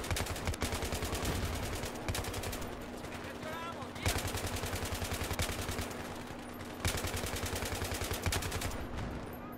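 M240B machine gun firing in Battlefield 3, long sustained bursts of rapid evenly spaced shots with brief pauses between them, loud and continuous, with a steady hum and occasional voices underneath.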